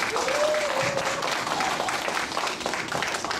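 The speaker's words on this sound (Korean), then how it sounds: "우리 아름다운 무대를 꾸며준 우리 아이들 위해서 힘찬 박수 한번 하겠습니다" Church congregation applauds children after their Christmas Eve performance, a moderate, fairly distant burst of clapping that carries on evenly with a faint voice briefly audible.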